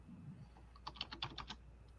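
Quick keystrokes on a computer keyboard form a short, fast burst of about eight clicks in the middle of a quiet room, faint and close, with no talking.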